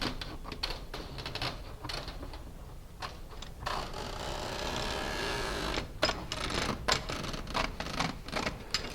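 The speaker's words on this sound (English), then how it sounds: "Roll the screen wire off, take your shears, and we're going to cut it right down the center of the end of the frame" Shears snip through aluminum window screen wire while re-screening a frame, a run of close, dry clicking cuts broken by a steadier rasping stretch.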